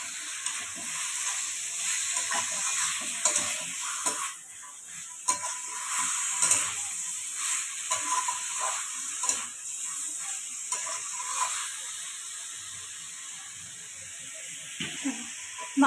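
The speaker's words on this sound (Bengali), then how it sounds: "মাংসগুলো একটু ভাজা ভাজা করে দেবো।" Chicken pieces fry in a pan with ginger-garlic paste for a yogurt chicken dish, giving a steady close sizzle broken by repeated clinks and scrapes of stirring, with no talking.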